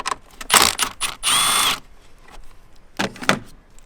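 A ratchet loosens an 8mm bolt on the valve cover of a BMW E90 335i with the N54 engine, giving a few close, loud bursts of ratchet clicking along with brief metallic handling noises.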